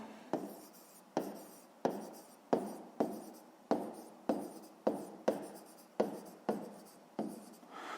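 A pen or pencil writes out a math solution, producing a series of regular scratchy strokes, each with a sharp onset and quick fade, close and alone with no talk.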